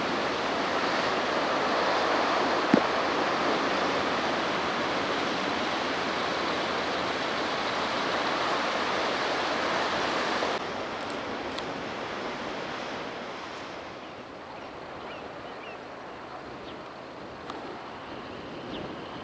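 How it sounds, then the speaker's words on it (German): Rough surf of the Barents Sea roars steadily off the coast at Berlevåg, a dense, continuous wash of breaking waves that eases slightly partway through, with no voices. "Nochmal einen Blick auf das tosende Meer"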